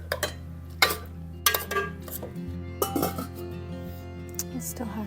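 Pasta being stirred in a pot on a stove, with scattered metallic clinks and scrapes of a utensil against the pot over a low steady hum, as a voice talks quietly.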